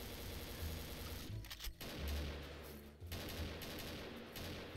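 Rapid automatic gunfire from a gun in a first-person shooter game, sustained close bursts with a few brief pauses between volleys.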